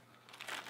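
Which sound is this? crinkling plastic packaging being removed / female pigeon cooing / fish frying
crinkling plastic packaging being removed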